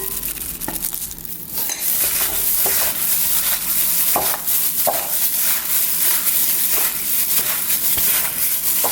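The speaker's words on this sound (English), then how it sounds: "We're gonna take 1/3 of the sauce and put it in here with the cabbage and get that nice and mixed up." Napa cabbage being tossed and stirred with sauce in a bowl: continuous wet squelching and rustling with scattered clinks of a utensil against the bowl, close and fairly loud.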